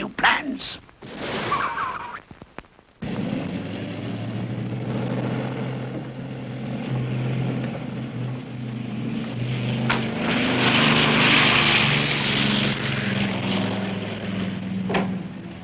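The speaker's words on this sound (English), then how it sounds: "They just took off in the airplane." A 1960s propeller airplane on Borneo roars during takeoff, a sustained droning engine that builds steadily louder after a few seconds of brief clattering sounds, loud and close throughout.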